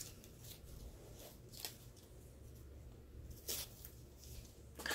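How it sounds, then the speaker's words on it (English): Scissors cutting ribbon for a small gift with a packaged order, a few soft, crisp snips spaced irregularly over a faint, quiet background. "cut it with your scissors."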